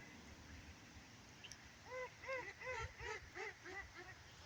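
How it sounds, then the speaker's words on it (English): A duck quacks in a quick series of about eight honking, goose-like calls, fairly close and moderately loud, over a low outdoor background hum. "This duck thinks he's a goose."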